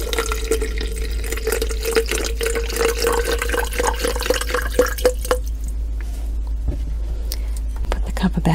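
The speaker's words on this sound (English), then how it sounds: "And I want to pour it into this container." Vegetable stock is poured into a container, a close trickling stream that gives way to scattered drips, with soft whispered talk over it.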